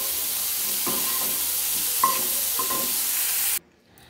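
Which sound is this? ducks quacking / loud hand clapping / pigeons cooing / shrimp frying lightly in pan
shrimp frying lightly in pan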